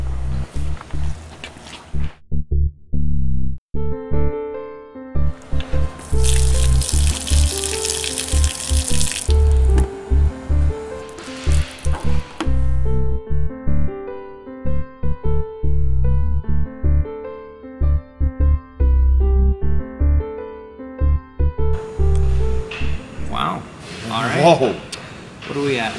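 Water runs from a building supply through 5/16 poly tubing into a container, a steady flow through most of the clip, close by, with someone talking over it at times.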